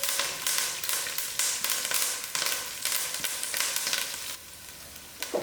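Curry leaves and thyme sizzling in hot oil in a pot for mutton biryani, a steady crackling fry with bursts of spitting, close and moderately loud, no talking.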